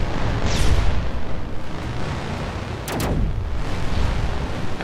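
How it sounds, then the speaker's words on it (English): Heavy booming shots from a big turret gun in a video game, a couple of deep blasts with rumbling tails over a constant battle din, fairly loud and without speech. "I heard something big firing"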